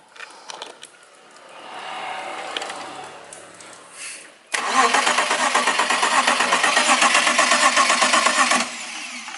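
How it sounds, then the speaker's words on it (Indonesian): A BMW E36 with a faulty fuel pump cranks without firing. The starter churns in a steady, rapid, loud rhythm for about four seconds after some quieter handling noises. "Jadi itu bisa starter tapi tidak bisa menyala"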